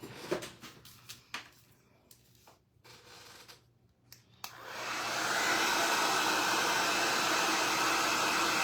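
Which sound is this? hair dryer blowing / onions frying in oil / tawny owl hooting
hair dryer blowing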